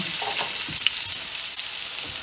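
Scallops sear in a hot pan with a steady, close sizzle that holds at an even level throughout, broken only by a few faint pops and crackles.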